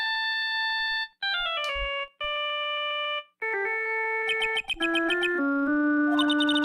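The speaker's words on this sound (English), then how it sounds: "All of a sudden, the phone began to ring." Electronic cell phone ringtone from the Phoenix Wright: Ace Attorney – Justice for All video game plays as a series of bright, clean synthesized melodic tones in short phrases with brief gaps, rising into a steadier sustained ring, with no talk.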